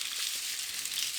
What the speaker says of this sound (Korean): 식용유 2큰술 정도 두르고 열이 올라오면 파프리카를 넣고 볶아요.